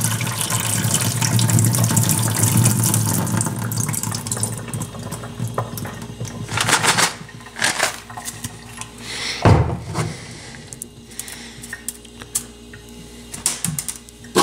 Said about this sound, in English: We're going to dump as much water as we can out